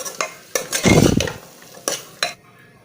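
Vegetables sautéing with masala in a pan for veg biryani, with several sharp spoon scrapes and clanks against the metal and a short burst of sizzling in the middle, close and fairly loud.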